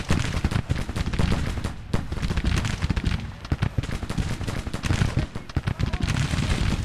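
Brigades of Civil War infantry trade fire in the strategy game Grand Tactician, a dense, loud, continuous crackle of overlapping musket volleys with sharp individual reports throughout.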